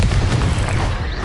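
A Confringo spell explosion in the video game Hogwarts Legacy bursts as a short, loud, close boom with a dense rumbling body that holds for about a second.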